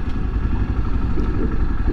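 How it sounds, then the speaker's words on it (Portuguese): A Honda XRE300 motorcycle engine idles steadily up close, a loud, low rumbling putter with no change in pace. "Dá uma paradinha aqui. Ficar com o motor ligado."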